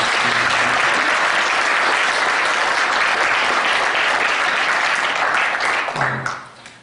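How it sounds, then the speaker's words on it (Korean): Congregation applauding at a church anniversary thanksgiving service, a dense, sustained round of clapping that holds steady and then fades out near the end. "우리 한번 박수로 우리 한번 감사드리겠습니다"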